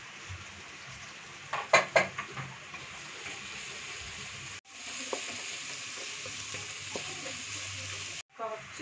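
Onions frying in coconut oil in a pan, a steady sizzle with a few sharp clatters of stirring early on and brief breaks in the sound.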